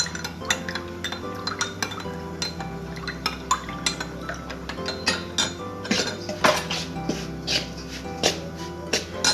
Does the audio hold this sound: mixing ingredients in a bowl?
yes